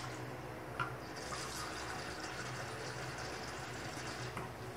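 Water poured in a steady stream over shredded coconut for homemade coconut oil, a continuous splashing fill at moderate level with no talk.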